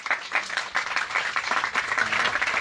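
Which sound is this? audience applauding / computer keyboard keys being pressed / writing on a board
audience applauding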